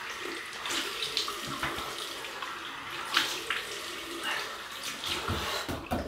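A running water tap flows steadily as a razor is rinsed beneath it, with soft splashes and occasional clinks, near and moderately quiet, no talk.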